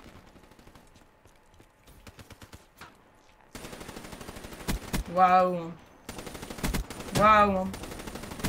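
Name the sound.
HVK-30 gunfire in Black Ops 3 video game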